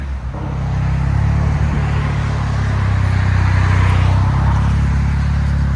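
A 2023 Hyundai Santa Cruz with a 2.0L turbo, exhaust cutouts, a resonator delete and dual exhaust backs out, its deep exhaust rumbling loud and close and swelling slightly as it moves.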